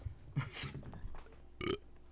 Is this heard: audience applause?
no